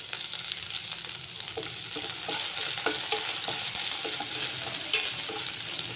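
Curry leaves frying in hot oil while making homemade gobi manchurian, a continuous sizzling hiss with rhythmic stirring clicks and scrapes, close and steady without speech.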